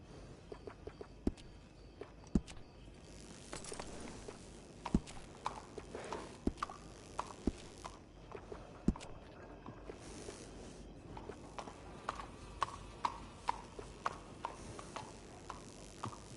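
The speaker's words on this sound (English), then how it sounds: "good-looking horse there" Horse hooves clip-clop at a steady walking pace in the video game Red Dead Redemption 2, irregular sharp knocks repeating throughout over quiet background ambience, with faint tack jingles.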